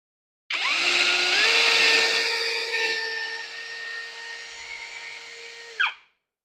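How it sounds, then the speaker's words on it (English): A cordless drill set to drill mode with torque on 10 spins a drill bit, whining at a steady pitch that dips slightly under load, then winds down with a brief final burst; no talking. "Okay, now let's use the drill bit. Still, the torque is on 10,"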